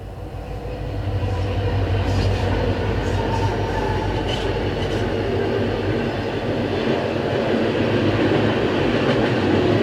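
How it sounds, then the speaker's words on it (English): A train rumbles past close by, a loud, steady roar with grinding wheels and rattling cars that holds from start to finish. "Is there seriously a train coming?"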